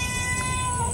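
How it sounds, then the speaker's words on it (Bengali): A white cat gives a single drawn-out, tonal meow that lasts about a second against low background noise. "মিউ মিউ ভয় পাইতেছে আর কি"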